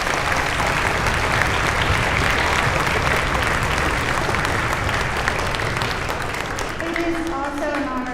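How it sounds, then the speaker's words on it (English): An audience at a middle school Veterans Day celebration gives steady, sustained applause to the choir and theater groups, a dense even clapping that fills the hall, with a voice emerging near the end. "Let's give them a round of applause."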